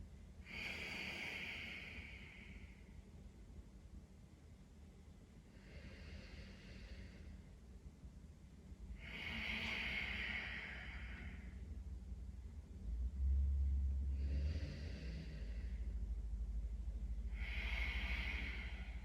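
Slow, deep breaths during a yoga pose, a few long airy inhales and exhales spaced evenly apart, faint and close in a quiet room with a low rumble beneath.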